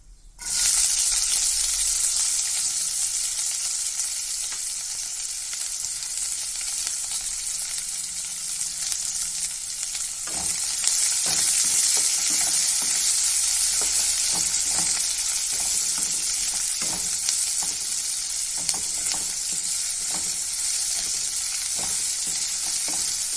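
Chopped onion frying in hot oil with cumin seeds, a steady loud sizzle running throughout with intermittent scraping and stirring strokes from a spatula, no voices.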